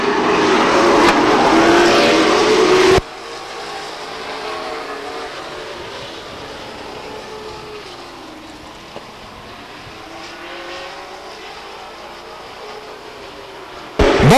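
Race cars roar around Stockton 99 Speedway off turn 4 in tight pack racing, a loud burst of engines up close at first, then a steadier, more distant drone before the engines surge near again at the end.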